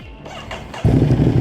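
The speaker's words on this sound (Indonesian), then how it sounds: "Suara motor berkonfigurasi L-Twin 90 derajat khas Italia ini pun langsung menderu." An Italian 90-degree L-twin motorcycle engine revs briefly, then settles into a loud, close, throbbing roar.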